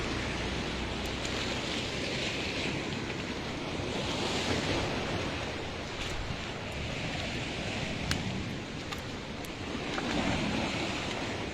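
Sea waves breaking steadily on a village shore where the surf is eroding a road and smashing concrete breakwaters, a continuous loud roar and wash with heavy wind buffeting the microphone throughout.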